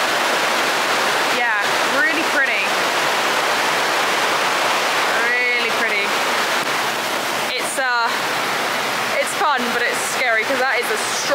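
A Bali waterfall with a strong current roars as a loud, unbroken wash of water, while voices break in at several points over the din.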